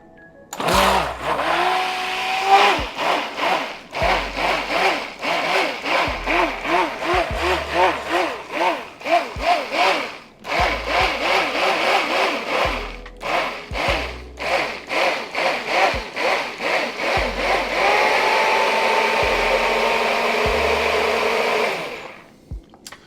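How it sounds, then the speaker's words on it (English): A handheld immersion blender whirs in bursts while mixing a whole-food protein shake, loud pulsing runs of motor noise broken by short pauses, ending in one longer steady run. "Oh yeah, it's called an immersion blender."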